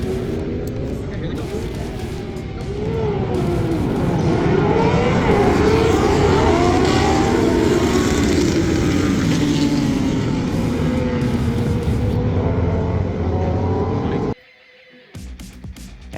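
Superbike motorcycles race together into turn 1 on a Utah track, their engines a loud, continuous roar that swells and holds before cutting off sharply near the end.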